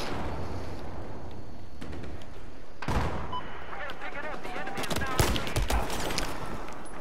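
Hunting rifle fire with a 20x scope in Battlefield 4, heard as a dense stretch of sharp gunshot cracks and bursts in a busy game battle, with voices talking over the action.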